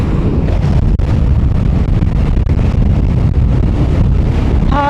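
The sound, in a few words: strong wind while riding in Nepal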